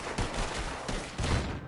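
Gunfire from Red Dead Redemption 2 cracks out in a rapid cluster of loud shots, several bursts packed into under two seconds with no talking.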